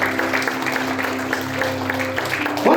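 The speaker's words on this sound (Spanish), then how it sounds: "Dele aplauso a Jesús. Déselo más fuerte, aleluya." A church congregation claps for Jesus during a Spanish-language Pentecostal service, steady close applause under sustained tones and a voice, continuing evenly for a few seconds.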